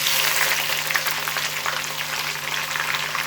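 Steady broadband sizzle of tomatoes frying with browned onions in a pan for a restaurant-style chana dal, continuous and close, with no talking.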